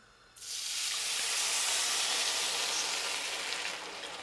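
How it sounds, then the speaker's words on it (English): A sudden loud sizzle bursts in as water is poured onto rice in a pot, holding as a steady, bright hiss of steam, slowly easing toward the end. "I want to hear a nice sizzle as I'm putting in the water"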